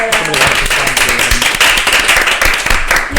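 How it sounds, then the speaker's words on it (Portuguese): An audience claps in a room during a talk show, with a brisk, dense patter of hands that continues steadily under some voices. "Uma salva de palmas, né, galera?"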